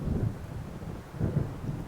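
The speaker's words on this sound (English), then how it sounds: "It seems there's a storm coming." Thunder from an approaching storm in the video game Alan Wake rolls in two low, muffled rumbles over a bed of rain and wind.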